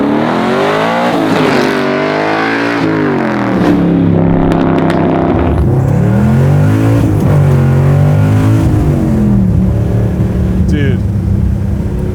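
A Pro Street 1967 Chevy Nova engine roars loud and close through repeated hard pulls, its pitch climbing through each gear, then dropping at the shifts and climbing again.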